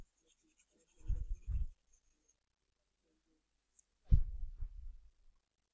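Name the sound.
writing with a pen on paper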